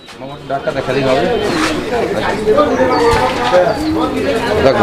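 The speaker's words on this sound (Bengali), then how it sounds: "দর্শক কবুতরগুলো দেখেন" Fancy pigeons coo in soft repeated rolling calls, close by and fairly loud, while people talk over them throughout.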